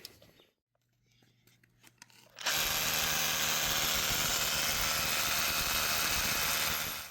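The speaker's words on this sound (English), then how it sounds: "we're going to be using these Titan HD anchor screws here and just using this impact to get them right down in there" A cordless impact driver drives Titan HD anchor screws into place for a patio roof post plate; after a few quiet knocks, the tool kicks in with a loud, sustained rattling hammer-buzz that runs unbroken for several seconds before stopping.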